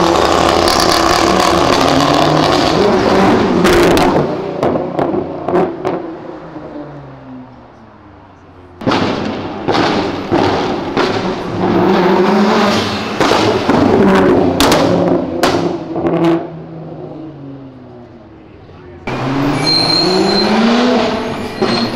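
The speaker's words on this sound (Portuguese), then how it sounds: "Os carros desfilando top." Cars including a Jetta and a Camaro pass by on an avenue, engines roaring loudly in long swelling waves with sharp crackles and rumbles, one after another close by, no talking.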